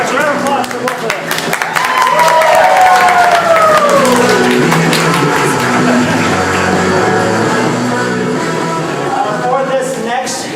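A live comedy improv audience breaks into loud, sustained applause with cheering and whoops, a dense crowd roar filling the space throughout.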